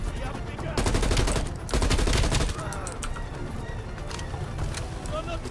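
Rapid machine-gun fire in Call of Duty Black Ops Cold War, dense sustained bursts up close, then scattered shots and distant firing, with voices talking over the battle.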